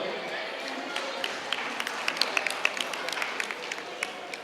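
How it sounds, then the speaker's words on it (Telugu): An outdoor rally audience claps for a family, a steady patter of many hands with sharper individual claps standing out, moderately close, with voices murmuring underneath. "ఒకసారి వాళ్ళ ఫ్యామిలీకి మాత్రం గట్టి క్లాప్స్ కొడదాం."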